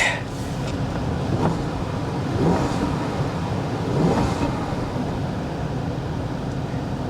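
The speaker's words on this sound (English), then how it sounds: "Let's give her a little rev. See what she sounds like." The engine of a Dodge Ram SRT-10 (Viper V10) pickup truck rumbles steadily, with two or three brief swells as it is revved, nearby and fairly loud, no talking.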